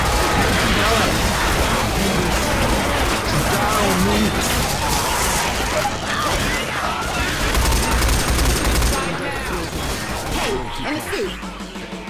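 Dense, continuous gunfire in the video game Left 4 Dead, with rapid shots and crashes layered loudly over a busy game soundscape for the whole stretch.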